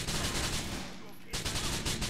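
Rapid bursts of automatic gunfire from GTA IV crackle loud and close, pausing briefly mid-clip before resuming in quick repeated shots.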